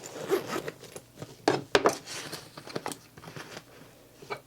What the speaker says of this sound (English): You couldn't zip it up to get both of them in there.